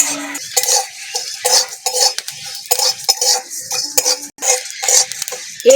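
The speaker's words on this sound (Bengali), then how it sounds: "শুকনো খোলায় এক মিনিট নেড়ে ছেড়ে মশলাটাকে ভেজে নেব" A utensil scrapes and clatters rapidly against a dry pan as dried chilies and five-spice (panch phoron) are stirred and dry-roasted, in a steady, busy rhythm of close metallic strokes with no talking.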